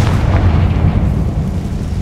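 A Confringo fire spell blasts in the video game Hogwarts Legacy with a heavy, booming explosion that rumbles loudly and fades over about two seconds.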